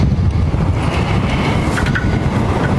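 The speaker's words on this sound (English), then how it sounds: "It's windy out here too." Steady wind roars and buffets against the microphone outdoors, a dense low rumble with no voices.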